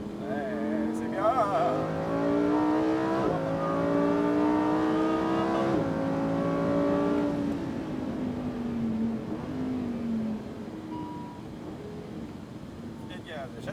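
A Lamborghini Huracan Performante with 640 horsepower runs on a racing circuit at light throttle, its engine note climbing and easing through gear changes, heard from inside the car beneath an instructor's ongoing talk.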